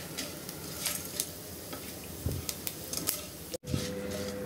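Whole spices (cardamom pods, cloves, cinnamon pieces, black pepper and fennel seeds) sautéed in a pan for South Indian chicken, with a light steady sizzle and scraping, clicking stirring strokes close by, ending in a short gap.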